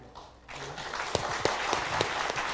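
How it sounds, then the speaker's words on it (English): Audience applause at a biotech demo day forum opening, starting quietly and swelling into steady clapping with several sharp, distinct claps standing out near the front. "let's give a big applause for General Manager."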